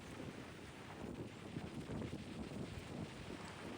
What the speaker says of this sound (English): It's hard to hold the camera steady when it's this windy.